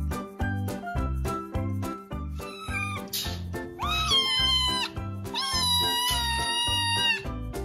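Munchkin cats meowing over a steady rhythmic music track: several drawn-out, rising and falling meows, close and clear, the longest calls coming in the second half, with no talking.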